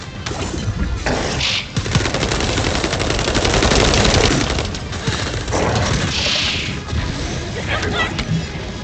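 Rapid automatic gunfire in The First Descendant video game, sustained bursts of loud shots with crashing impacts, alongside shouted voices.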